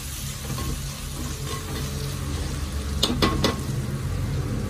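Chili and turmeric powder fry in hot oil in a steady, close sizzle, with a few quick metallic clinks of a spoon stirring the pan near the end.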